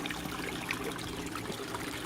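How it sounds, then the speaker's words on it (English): Water streaming from holes drilled in PVC pipe in aquarium plumbing for a 20 gallon long tank, a steady close trickle and splash with continuous broadband hiss, no talk. "As you can tell right here, the water's coming out on this side."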